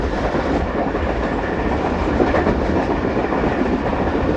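The Pakistan Express rolls along the rails toward Rohtas Fort, a loud, steady rumble with rhythmic wheel clatter heard from inside the carriage, no voices.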